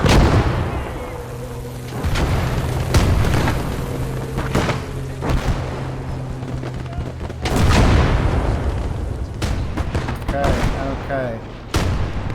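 Heavy artillery gun fire in the Kampfgruppe war game: repeated loud booming shots with echoing tails, several spaced blasts over a steady rumbling battlefield background.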